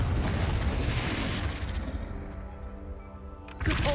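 A Confringo spell blast in the video game Hogwarts Legacy erupts as a loud, booming explosion that rumbles and slowly fades, followed by another sharp burst right at the end.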